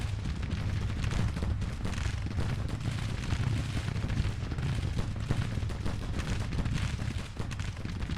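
Counter-battery artillery fire in the Grand Tactician: The Civil War video game, a steady, dense rumble of distant cannon booms and musketry rolling on without pause.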